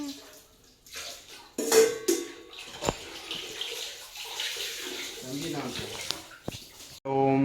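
Dishes are washed under a running tap at home: water splashes and gushes with occasional clinks of plates and utensils, and voices talk over the washing at moderate volume.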